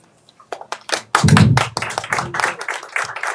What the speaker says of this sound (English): let's have another round of applause for our author, Derrick Barnes, and illustrator, Shawn MartinBraugh